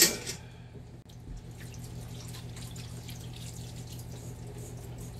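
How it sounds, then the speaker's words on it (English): Hands being washed under a running kitchen tap: a steady, faint stream of water hissing continuously, with a brief clatter at the start and no talk. "Just washing my paws."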